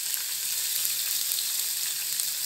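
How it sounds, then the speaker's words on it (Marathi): Curry leaves and green chillies sizzle steadily in hot oil, a dense, even crackle of frying heard up close with no talking. "ह्याच्यात कढीपत्त्याची पानंही टाकून घ्यायची आहेत. या मिरच्या देखील टाकून घ्यायच्या आहेत."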